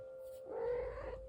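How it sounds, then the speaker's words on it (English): Cat bursts into a room and lets out one brief drawn-out meow over a faint steady background hum. "That's my cat busting in."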